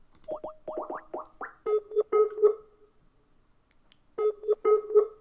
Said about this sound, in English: The noise you're hearing is what I would hear if I was signed into Skype on my laptop.